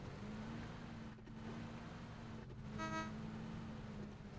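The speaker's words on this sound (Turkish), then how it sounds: "Önden bir araba geçiyor" A car in the PUBG video game drives past with a steady engine drone that swells slightly as it goes by, with a brief tonal horn-like note partway through.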